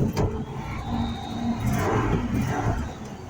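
Little red pickup truck's engine starting and settling into a low, rough rumble that stays steady and close for a few seconds.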